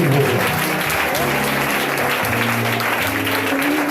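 Sustained, loud audience applause for a choir at a church music program, dense clapping throughout with a low voice or hum underneath.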